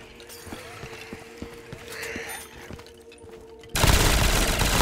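Rapid gunfire in a Call of Duty Zombies match on the Space Tower map, a dense mechanical rattle of repeated shots that surges into a loud, sustained burst near the end.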